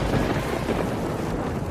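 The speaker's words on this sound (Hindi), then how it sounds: "धीरे धीरे करके बारिश बहुत तेज हो जाती है" A torrential monsoon downpour pounds down on farm crops, with thunder rumbling through it, a loud, unbroken roar of rain and wind with nobody speaking.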